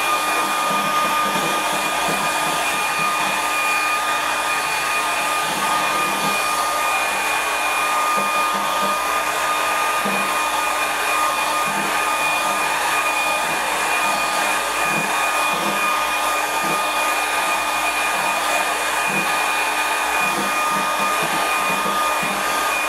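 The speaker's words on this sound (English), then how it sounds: "I know some people don't like the sound of the air dryer" A hair dryer blows steadily and loudly for over twenty seconds, drying a watercolour painting of light on the ocean, a constant whirring hiss with a faint motor whine and no talking.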